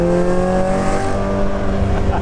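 A Toyota AE86 Initial D tribute car with a 1.7L touge engine screams near its 9,000 RPM redline, a loud sustained high-pitched engine wail holding steady throughout, close to the microphone.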